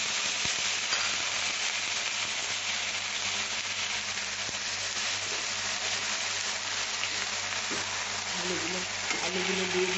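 Potatoes frying in hot oil with cumin, chilli and bay leaf, a constant dense sizzle with faint stirring scrapes and a murmuring voice in the background.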